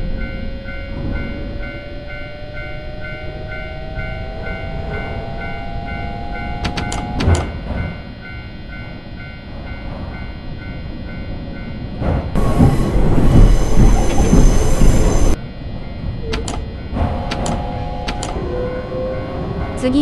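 A one-man train in the OneMan2 train simulator game rumbles along the rails with a steady, loud running drone, rising and falling motor tones, brief clanks and a harsher grinding burst midway.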